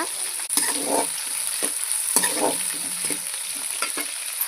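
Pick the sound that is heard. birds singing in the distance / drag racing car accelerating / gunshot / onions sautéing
onions sautéing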